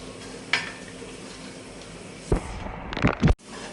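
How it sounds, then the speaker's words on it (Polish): Butter and honey caramelizing in a hot pan while making honey popcorn: a steady close sizzle, with a few sharp clattering bursts of pan or utensil noise toward the end. No one speaks. "A tutaj już masło z miodem się karmelizuje."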